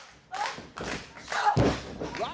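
Wrestling drop kick landing in a ring, several heavy thuds and body impacts on the mat in quick succession, mid-distance, mixed with crowd noise and a commentator talking.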